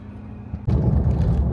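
A Mahindra Scorpio rolls at night over a rough, broken road in Iran, its cabin filled with a loud, steady rumble of tyres and suspension that swells in abruptly after a quieter engine hum.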